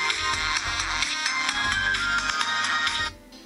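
A bright, melodic ringtone previewed in an Android app plays loudly for about three seconds over a thumping beat, then cuts off abruptly.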